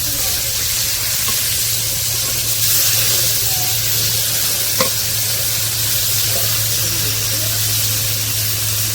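Prawns frying in a pan in a village home kitchen give a steady, close sizzle and hiss, with a low hum underneath and one brief tap near the middle.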